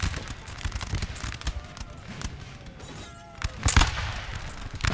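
Scattered musket volleys from infantry in a street fight in Napoleon: Total War, irregular cracking shots near and far, with a heavier cluster of bangs toward the end over a low battle din.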